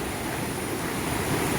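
Rushing water at Thommankuthu waterfall in Idukki, a dense, constant roar filling the whole clip with no pauses, loud and close, with no voices.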